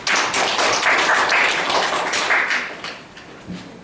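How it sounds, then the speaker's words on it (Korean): Conference audience applauding to welcome a discussion speaker at a national leadership session, a broad steady patter of many hands clapping at close range that tapers off near the end, with no talking over it. "소장님 박수로 모시겠습니다"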